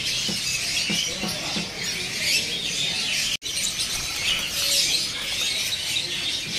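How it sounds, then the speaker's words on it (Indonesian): A caged camperling songbird at a bird market calls in repeated high chirps and tweets over a busy din of other birds, fairly close, with a brief dropout midway. "Ini ada burung camperling ya."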